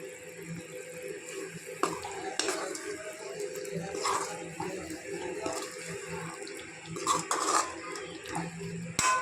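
Chicken fry mixture being stirred in a pan, with steady scraping and clinking of a spoon against metal and a faint sizzle running throughout.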